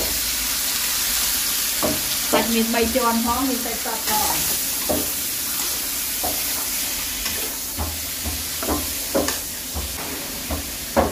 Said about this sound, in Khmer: ខ្ទឹមសយើងឈ្ងុយហើយខ្ញុំចាក់សាច់ចូល